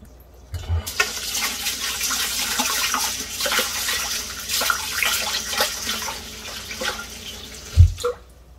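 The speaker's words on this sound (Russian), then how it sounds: "Овсяночку нужно промыть в воде до чистой воды. Так, промываю, сливаю водичку." Tap water runs and splashes steadily into a container of oats being rinsed for porridge, with a few knocks and a thump near the end.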